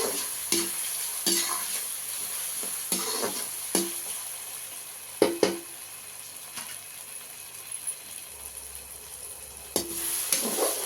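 Tomatoes and green chillies for mutton curry cook down in a hot pan with a steady, soft sizzle, punctuated by several sharp scrapes and taps of a spoon stirring against the metal, with no voices.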